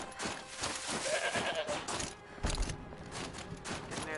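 In Horizon Zero Dawn a goat gives a short, quavering bleat amid busy game ambience and footfalls, the call fairly clear but partly buried in the surrounding noise.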